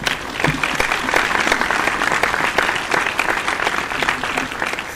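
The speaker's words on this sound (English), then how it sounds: "Let us give them a huge round of applause." Steady, dense clapping from a crowd at a school Independence Day prize-giving fills the whole stretch, loud and sustained without pause.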